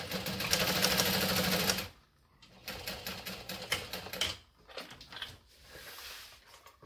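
A sewing machine stitches a bucket bag: a dense, rapid mechanical whir for about two seconds, then shorter stop-start bursts of stitching with pauses between.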